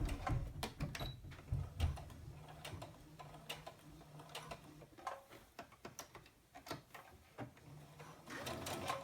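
A sewing machine stitches a zipper and fabric on a wristlet at a regular 2.5 stitch length, giving a quiet, irregular run of mechanical clicks and whirring bursts with brief pauses, close to the listener.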